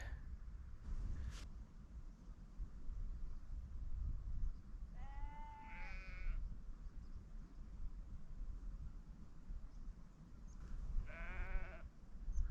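Sheep bleat out on the open moorland of Kinder Scout, two separate wavering calls a few seconds apart, fairly distant and faint over a low, steady wind rumble, with no talk.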